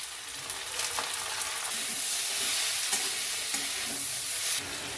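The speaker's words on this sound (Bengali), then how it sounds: "ক্যাপসিকাম টমাটো কাঁচা লঙ্কা সমস্ত সবজিগুলিকে ভেজে নিতে হবে" Capsicum, tomato and green chillies sizzle and crackle in a hot pan, a steady bright hiss with occasional stirring scrapes, close up and without speech.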